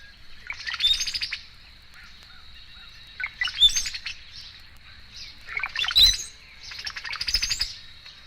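A male and female cowbird calling together: squeaky whistles mixed with rattling chatter in four close, overlapping bursts against a steady high hum.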